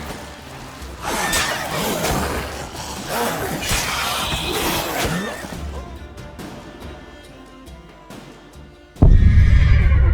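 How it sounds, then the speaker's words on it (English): Horse in the video game The Witcher 3 neighing and whinnying repeatedly, with hoof clops and a sudden loud thump near the end, as though from a kick. "eu tomei um coice do cavalo"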